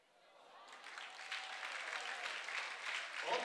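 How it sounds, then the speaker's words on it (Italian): Applause from spectators at an athletics meeting in Padova, rising from quiet into a broad spread of distant clapping from the stands, with faint crowd voices and an announcer-like tone beneath. "È arrivato un applauso"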